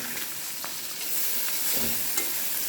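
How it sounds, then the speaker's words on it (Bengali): Pairsa fish turned in a pan for a bhuna gives a steady, moderate sizzle of hot oil. Occasional soft spatula scrapes and taps come through with no talking. "এক সাইডে ভাজা হয়ে গেছে, এটা বেশি শক্ত করে ভাজবো না।"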